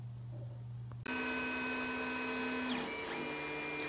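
A 3D printer starts up to print a plastic plaque pattern for aluminum sand casting, a steady whirring mechanical hum with high tonal motor whines and shifting stepper tones, close and continuous after a quiet lead-in.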